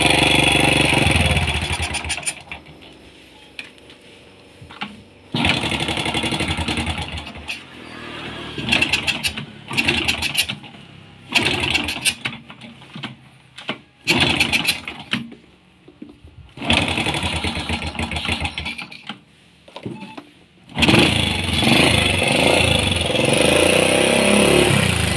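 Honda Supra motorcycle engine that is smoking and heavy on spark plugs, starting and running in several loud bursts with short pauses between, revving and sputtering close by.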